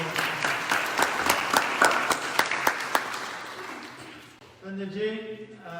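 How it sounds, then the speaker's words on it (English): Applause from a temple congregation at a Navratri final-night gathering at Devi Mandir in Pickering, Ontario: steady clapping with sharp individual claps standing out, fading after about four seconds as a voice begins speaking. "let's give yourself a round of applause"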